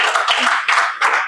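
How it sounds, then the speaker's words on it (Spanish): Congregation at a church service clapping together in sustained, loud applause, dense rapid hand claps with brief dips in intensity. "Dale un fuerte aplauso al Cordero."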